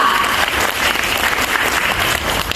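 A room full of people clapping steadily and loudly, dense applause sustained throughout without pause.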